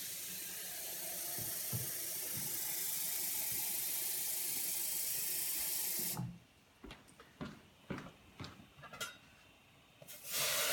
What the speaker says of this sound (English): I gotta put some more water in there